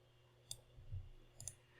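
Quiet computer mouse clicks while working in FileMaker, two sharp, faint clicks about a second apart, heard close up in an otherwise quiet room.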